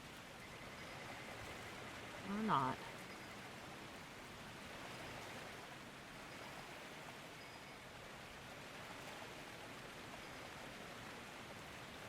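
A waterfall in the video game Dragon Age: Inquisition gives a steady, broad rushing hiss throughout, with a brief voice near the start.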